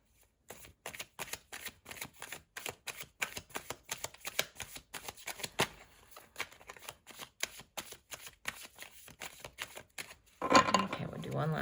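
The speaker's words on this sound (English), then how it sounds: "we'll do one last shuffle" Tarot cards being shuffled up close, a long run of rapid riffling flicks in bursts, ending with a rustling clatter as the deck is squared.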